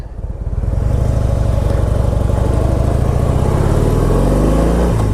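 A Harley-Davidson Heritage-style motorcycle engine idles and then revs up on a test ride, with a loud, close, steady low rumble that builds slightly in pitch.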